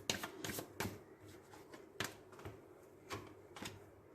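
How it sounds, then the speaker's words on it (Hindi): Tarot cards shuffled by hand at close range, quiet riffling flutters and soft slaps in irregular bursts, with no talk over them. "तो चलिए हम कार्ड शफल करते हैं"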